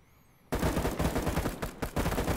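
Sustained automatic gunfire in the military shooter Arma 3 erupts suddenly after a quiet moment, a dense, loud rattle of overlapping shots with brief dips, with no talk.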